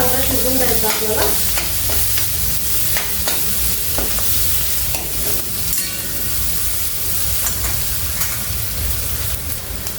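Onion cooking with masala in a pan for lemon rice makes a loud, continuous, close sizzle and hiss, with occasional clinks of a stirring spoon throughout and no talking.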